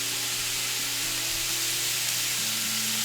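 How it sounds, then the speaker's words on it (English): Continuous, steady sizzling of about half a pound of steak frying on a hot griddle for Philly cheesesteaks, close and even, with a faint low hum underneath. "And you could hear that sizzle."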